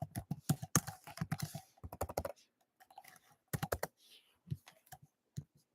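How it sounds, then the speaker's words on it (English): Typing on a computer keyboard, sharp clustered key clicks in quick irregular bursts with pauses between, close and fairly quiet. "let's type in this one"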